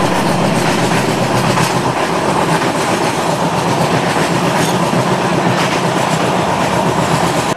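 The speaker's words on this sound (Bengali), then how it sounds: "ট্রেনটা পৌঁছালো দিলদারনগর" The Kumbha Express, heard from inside an AC third class coach on the Varanasi to Kolkata run, rumbles steadily along the rails with a continuous loud roar and faint rhythmic clickety-clack of the wheels.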